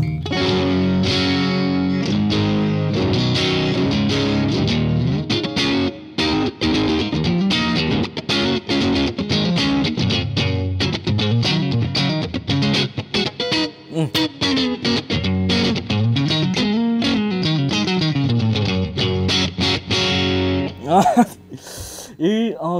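An electric guitar through a Vemuram Landau distortion pedal plays continuous chords and riffs, loud and gritty throughout, with a brief spoken voice near the end.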